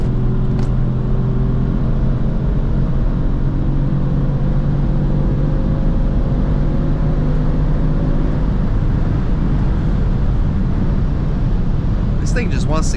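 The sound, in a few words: 2018 Kia Stinger GT accelerating at full throttle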